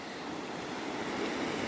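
Rapids rush through The Narrows in Zion National Park as a continuous broadband roar of moving water that stays close and steady, with no voices.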